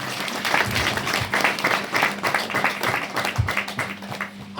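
Applause from a congregation during a church sermon, a dense, steady wash of many hands clapping that holds loud through the whole stretch with no talk over it.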